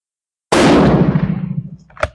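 A single loud, close rifle shot from a GEW 88/05 firing a light load: a sharp crack after a brief silence, then a booming decay tailing off over about a second and a half.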